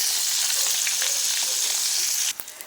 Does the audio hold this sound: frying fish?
yes